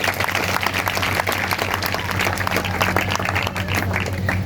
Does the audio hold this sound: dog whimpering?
no